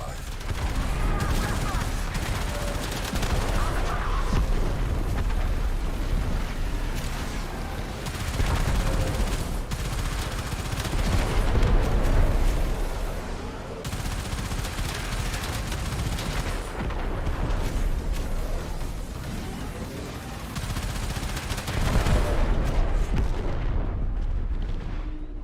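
Dense, continuous battlefield gunfire and artillery-like booms from a combat video game, rolling and swelling in loud waves for the whole stretch with no clear pauses.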